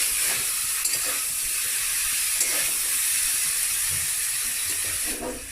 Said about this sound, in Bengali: আমি মশলার সঙ্গে এঁচড়গুলো ভালো করে 5-7 মিনিট কষিয়ে নেব।